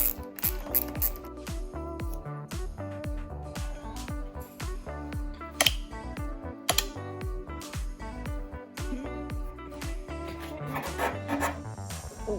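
A ratchet clicks steadily while bolts come off an old dirt bike under restoration, with repeated close, crisp bursts of ratcheting and some metallic rubbing, no talk.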